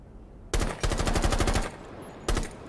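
Automatic gunfire from a video game placement match: a rapid burst of about a second, then a short second burst, loud and close with no voices.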